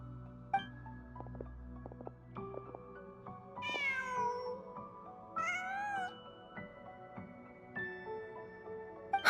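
A cat meows twice in the video game Genshin Impact, each call rising and falling, clear over a layered, steady game music and ambience bed.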